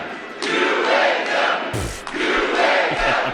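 A crowd chanting "UAW" in loud, rhythmic bursts that swell and fade, with a dull thump partway through.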